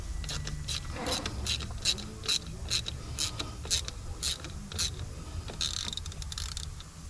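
A socket ratchet turns a thermostat housing bolt on a Ford Five Hundred, giving a run of quick, evenly spaced clicks close by, with faint mechanical noise underneath.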